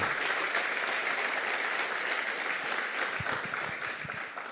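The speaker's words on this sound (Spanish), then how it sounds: "Yo le doy un aplauso a la palabra del Señor" A church congregation applauds during a sermon, a full, even patter of many hands that holds steady and then begins to thin toward the end, moderately distant and without talk.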